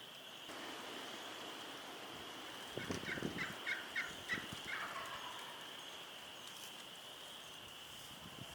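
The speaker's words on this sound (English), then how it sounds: "we start hearing another turkey gobble off in the distance" A wild turkey gobbles far off during a Nebraska turkey hunt. Several faint gobbles come close together midway through, over a steady hiss like running water.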